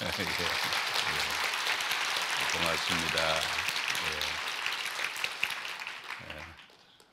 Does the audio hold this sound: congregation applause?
yes